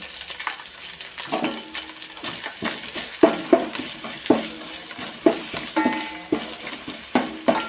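Coconut-chili paste sizzles in a pan while a spoon stirs it, scraping and tapping against the metal in repeated uneven strokes over a steady, moderate frying hiss.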